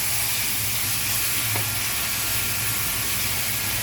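Thinly sliced meat sautéing in a pan for ginataang kamansi, a steady, loud hiss and sizzle that holds without a break, with no talking.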